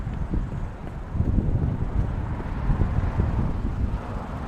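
Wind buffets the microphone in a steady, low rumbling roar with uneven gusts on a cold day in Dallas, Texas, no voices present.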